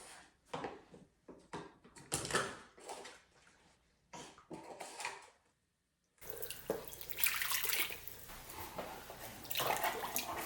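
Warm water poured into a bowl of bread dough ingredients for pumpkin-shaped breads, a steady splashing pour running through the second half after several shorter bursts of kitchen handling sounds.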